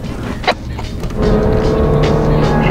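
A car descends the switchback road from the 5,100 m Gaula Pass in Tibet. Steady engine and road rumble fill the cabin, with a brief knock early on, then the drone grows fuller and holds.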